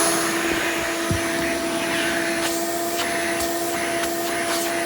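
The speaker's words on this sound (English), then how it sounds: "Since this vacuum is a direct air machine, it is known to produce more airflow than suction." A Hoover Elite 350 replica direct-air vacuum cleaner runs steadily and loudly throughout, a constant whirring roar with a high motor whine and no talking.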